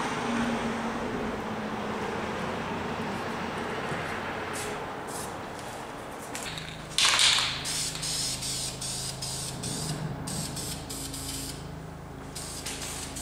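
A Mazda Miata wheel being spray painted: a steady, close hiss of aerosol running for long stretches, briefly interrupted by a sharper burst midway, then resuming in short, pulsing sprays.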